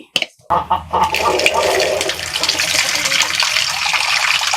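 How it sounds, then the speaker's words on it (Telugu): Water splashes and pours continuously as chillies taken off a fire are rinsed by hand, starting after a couple of brief knocks, close and fairly loud. "ఇంకా నీళ్ళు పోసి ఈ మిరపకాయలు బాగా కడగాలి"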